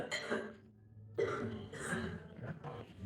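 Two bursts of harsh, throaty coughing come close to the mic, separated by a short pause, with some throat clearing in between.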